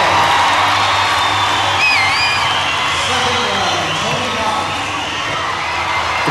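A large crowd at a 1986 skateboarding world event in Vancouver roars and cheers, with whoops and shrill whistles rising over a continuous loud wall of voices.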